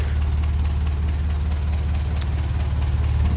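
A 1957 Ferguson 35 TVO tractor engine idles at a low tick over, a steady close rhythmic low thrum with even pulsing and no voices.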